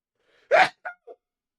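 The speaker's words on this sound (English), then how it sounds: "I'm gonna sneeze." A single person sneezes up close in a quiet room: a sharp sharp inhale-burst followed by two smaller trailing bursts, then silence.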